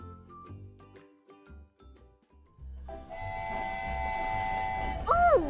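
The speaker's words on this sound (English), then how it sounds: "The train is coming back." A toy train rolls back in, heard after a stretch of talk as a chiming, tinkling jingle over a steady rumble, ending in a short rising and falling whistle-like tone.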